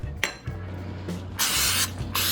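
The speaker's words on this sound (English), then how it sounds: "spraying an 8x8 inch baking dish here with cooking spray" Cooking spray hisses into an 8x8 inch baking dish in two short bursts, close and crisp, with a few light clinks from the dish before and between them.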